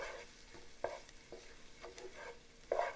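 Tomato paste is stirred into onions in a hot pan for prawns in coconut sauce, a soft sizzle broken by a few scraping spoon strokes and two louder knocks against the pan, close up with no talking.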